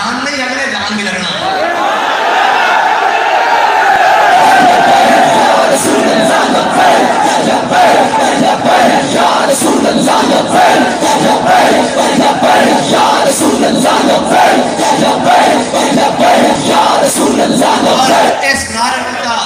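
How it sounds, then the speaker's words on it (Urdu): Large crowd at a religious gathering at Data Darbar in Lahore, loudly chanting and shouting a slogan together, a dense roar of massed voices sustained throughout with rhythmic surges. "نعرہ بند کرا دیں یار، مجھے بڑا افسوس ہے، نعرہ بند کرا دیں"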